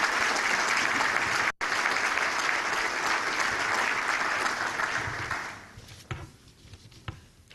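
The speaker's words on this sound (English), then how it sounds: "So let's have a round of applause for all of them." Audience applause fills a chamber of commerce breakfast room, sustained and dense for about five seconds before tapering into scattered claps with a brief gap early on.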